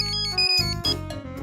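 A mobile phone ringtone plays a bright electronic melody of quick stepped tones, loud and close, alone with no voices.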